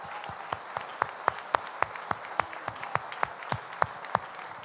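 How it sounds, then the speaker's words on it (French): Audience applause at a gathering of 300 job-placement coaches in a hall, a steady patter of many hands clapping at moderate distance, with sharper individual claps standing out and no voices. "J'aimerais qu'on vous applaudisse bien fort parce que c'est historique."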